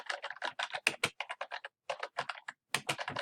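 Rapid typing on a computer keyboard while entering a database search, close and distinct with dense bursts of keystrokes broken by a couple of brief pauses.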